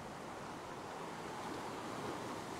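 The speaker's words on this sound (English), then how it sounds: "See, there's a couple of little waves coming here" Ocean waves surging against a rock shelf at a rock fishing spot, a steady broad wash of surf with wind noise over the microphone, no voices.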